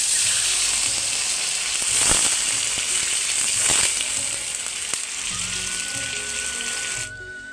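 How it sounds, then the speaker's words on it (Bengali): Water poured into a pan of sautéed potatoes hisses into a steady loud sizzle that swells and eases, then cuts off near the end. "জল দিয়ে দেবো।"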